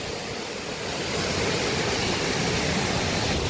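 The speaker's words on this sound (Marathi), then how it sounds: "धबधबा बघू शकता केवढं मोठं हा" Bhivpuri waterfall near Mumbai, a large cascade, roars as a dense, continuous broadband rush, loud and close, swelling slightly after the first second and holding steady with no voices.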